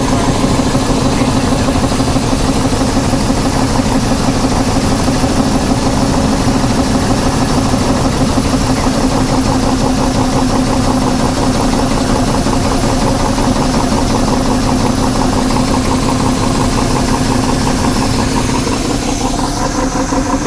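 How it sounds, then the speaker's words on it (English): A rough, continuous idle of a misfiring 1985 GMC Sierra 1500 truck engine with an uneven, stumbling rhythm, steady and close throughout with no pauses. "It's still misfiring though."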